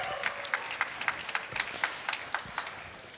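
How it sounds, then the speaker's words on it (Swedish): An audience at a cooking competition final claps in a short burst of applause, sharp individual claps standing out distinctly over a moderate, fairly close crowd, with no talking. "En applåd, Johan."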